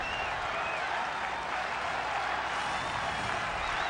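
Baseball stadium crowd at a Phillies home game against the Cardinals applauding Pat Burrell, a broad, continuous wash of clapping and crowd noise that holds level from start to finish.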